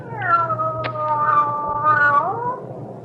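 In an old radio drama, a cat lets out one long, drawn-out caterwauling meow, close and loud over a faint low hum, wavering in pitch before trailing off.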